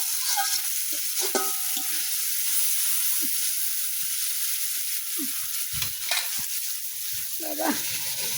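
Chopped tomatoes frying in a pan for biryani give off a steady hissing sizzle, with scattered knocks and scrapes from stirring close by.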